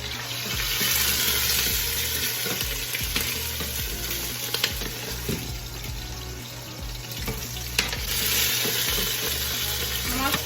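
Tomatoes and onion fry in a hot pan with a loud, continuous sizzle and hiss, while stirring adds occasional scraping clicks.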